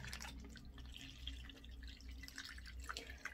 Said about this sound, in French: vous mettez d'abord de l'eau